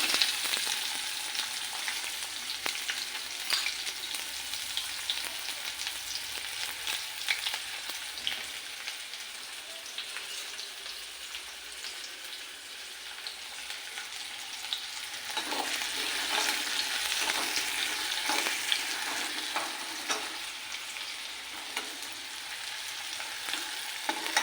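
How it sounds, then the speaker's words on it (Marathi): Onion sizzles and crackles in hot oil with cumin seeds, a continuous dense frying hiss with occasional stirring scrapes, close and steady throughout without any voices. "आता कांदा टाकूया."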